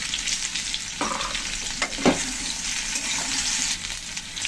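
Mixed vegetables with slit green chillies fry in a pan for a curd-based vegetable curry, a steady close sizzle broken by a couple of sharp stirring clatters, no one speaking.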